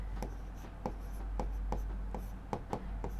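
Writing on a classroom board during a maths lesson: about a dozen sharp, evenly spaced taps and short strokes, faint but clear, with no talking.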